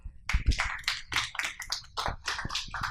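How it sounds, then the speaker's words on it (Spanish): An audience applauds a speaker at a talk on climate change and Mother Earth in political constitutions: a small group's uneven, fairly close hand claps in quick succession, steady for three seconds. "Démosle un fuerte aplauso a la doctora Peláez."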